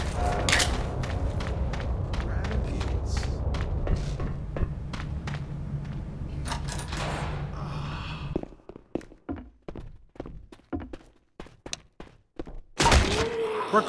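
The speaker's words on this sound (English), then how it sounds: "Reloading!" Weapon being reloaded in Left 4 Dead, heard as a string of sharp metallic clicks and thunks after a stretch of rumbling background noise, ending in a louder clatter.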